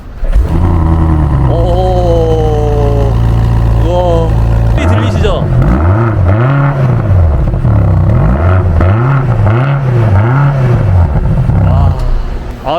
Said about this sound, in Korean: 제가 요거 시동 한번 걸어보겠습니다